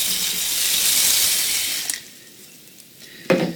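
Water gushes steadily into a pot of long grain brown rice for about two seconds, a broad close hiss that then cuts off, leaving quiet with a small clink and a brief final splash.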